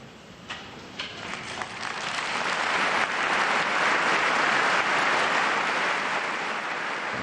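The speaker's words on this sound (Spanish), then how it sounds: "Así arrancaba el pontífice el aplauso de los asistentes en su última audiencia" Applause from the crowd at Pope Francis's general audience starts with a few scattered claps, then swells into sustained, broad clapping from a large gathering heard at a distance.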